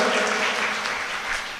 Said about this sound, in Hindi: एक बार जोरदार तालियों द्वारा उनका स्वागत करें